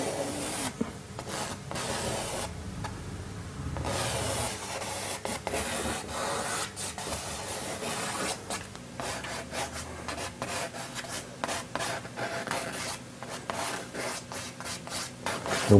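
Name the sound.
sketching with charcoal on canvas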